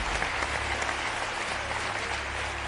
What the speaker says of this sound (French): On applaudit les Belges.